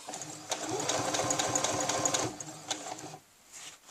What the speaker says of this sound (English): make sure nothing's bunched, and then start sewing again